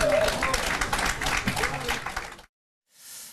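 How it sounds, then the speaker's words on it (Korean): Applause from a studio audience on a Korean television news panel program, a dense burst of clapping mixed with voices for about two and a half seconds before cutting off abruptly, with a faint hiss returning at the end. "모두 박수 부탁드립니다"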